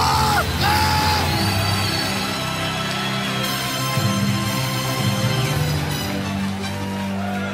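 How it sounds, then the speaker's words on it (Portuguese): A church congregation at a Pentecostal-style service lets out a loud, sustained yell of praise, a dense wall of shouting voices that stays loud and continuous throughout. "dá um berro de glória a Deus"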